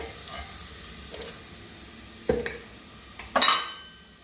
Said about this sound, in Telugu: చూడండి, ఇలా ఫ్రై అవుతుందండి.